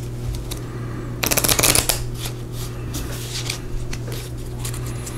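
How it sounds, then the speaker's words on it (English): Small playing cards from the Gloomhaven: Jaws of the Lion board game are riffle shuffled, a quick crisp fluttering burst of riffling followed by softer taps and rustles as the deck is squared, close up. "We're going to riffle shuffle. It's hard to do that shuffle with tiny cards."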